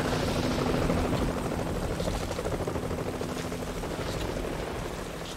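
Helicopters fly off in the 2003 PC video game Vietcong, a loud, dense rotor roar that holds steady and then gradually fades as they move away.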